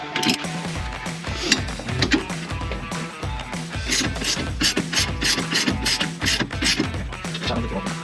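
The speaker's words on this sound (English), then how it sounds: "I'm gonna move on to the lower bolt for the strut." Ratchet wrench loosening the lower strut bolt on the rear suspension of a Scion FR-S, rapid clicking pawl strokes repeating in steady bursts close up, with no talking.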